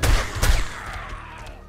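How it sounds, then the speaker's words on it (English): Sniper rifle shots in the survival game 7 Days to Die, two heavy, booming reports in quick succession, each trailing into a rumbling echo. "Trying to line them up for sniper shots."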